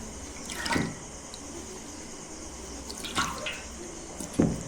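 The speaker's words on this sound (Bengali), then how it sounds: "ফ্রেশ জল দিচ্ছি" Fresh water poured into an aquarium during cleaning, a soft steady trickle and splash with a few louder gurgling bursts, close and fairly quiet, no voices.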